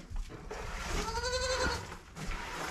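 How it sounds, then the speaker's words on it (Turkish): A lamb bleats loudly up close in a barn, one wavering cry in the middle with softer bleats around it. "Hadi kuzular neyse, sen niye meğliyorsun?"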